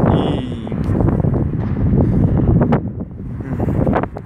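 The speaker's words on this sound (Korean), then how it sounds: "바람 소리" Strong wind buffets the microphone in continuous gusts, a rumbling roar with no one speaking.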